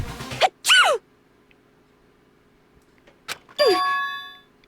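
Two cartoonish sneezes from a character in the video game Danganronpa, each a sharp breath then a rising-falling burst, the second followed by a ringing chime, separated by near silence.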